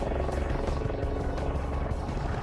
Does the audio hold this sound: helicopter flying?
yes